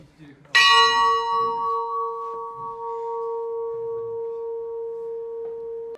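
A church tower bell rings once, close and loud, with a bright strike that fades into a long, steady humming tone lasting several seconds.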